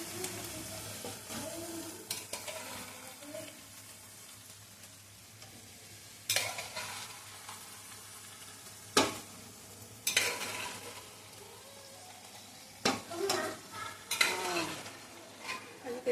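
Peas being sautéed in a pan for a home-cooked chana paneer: a low continuous sizzle under intermittent scraping and clattering stirs of a spoon against the pan, close and fairly soft.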